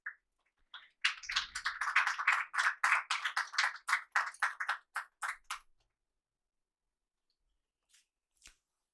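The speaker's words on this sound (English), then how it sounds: "please give a huge round of applause." Clapping at a ceremony marking the signing of an industry agreement on semiconductors. A small group produces sharp, distinct claps in a quick, fairly regular rhythm for about five seconds, then stops, leaving near silence with a couple of faint stray sounds.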